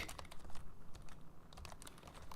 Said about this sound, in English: I have to apologise for my typing.